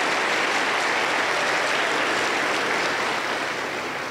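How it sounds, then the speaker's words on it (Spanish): A church congregation applauds loudly and steadily for about four seconds, a dense wash of clapping with no clear gaps, heard close and filling the room. "un fuerte aplauso para el Señor Jesús"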